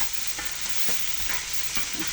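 Melon skin pieces cooking in curry in a pan, a soft continuous sizzle with repeated stirring scrapes and light knocks close by, no voices present.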